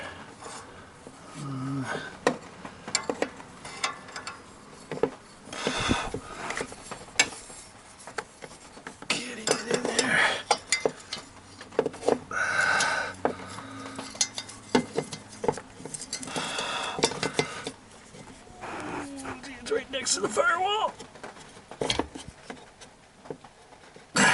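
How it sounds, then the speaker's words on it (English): Close, irregular metallic clicks, taps and scrapes come from a wrench working a stubborn bolt on the cracked Iron Duke exhaust manifold of a 1993 Sonoma truck. "Seems the last bolt's always the hardest one to get off."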